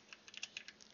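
Light, quick taps on a computer keyboard, a short run of about a dozen soft clicks, close and quiet with no talking.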